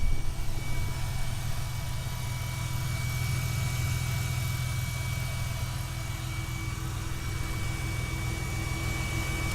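A 1999 Porsche 911 Cabriolet engine idles steadily on its own, a close, even hum with a low rumble and a faint constant whine, no voices over it.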